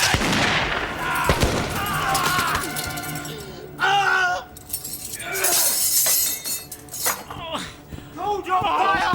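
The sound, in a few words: gunfire in a period naval drama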